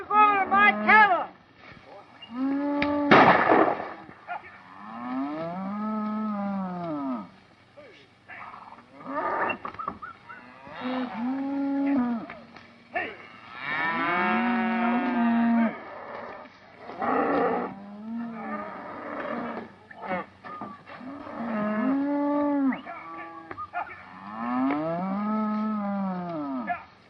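Cattle mooing in a 1930s Western scene, many long, drawn-out bellows repeated and overlapping across the herd, near and loud, with short gaps between calls and a brief sharp noise early on.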